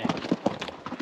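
Horse hooves clip-clop steadily at a walk on a trail ride at Lajitas, with a close, brisk, even rhythm of several soft thuds and a little rustling around them.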